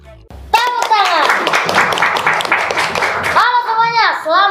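Hand clapping opening an Indonesian podcast episode about stock investing, a quick rhythmic burst of claps from a few people close to the microphone, with voices talking and laughing over and after it.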